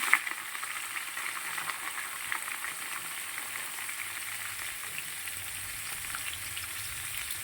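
Cubed kohlrabi and potato fry in hot oil tempered with nigella seeds and whole cardamom. A soft, even sizzle holds steady throughout, faint and close, with no talking.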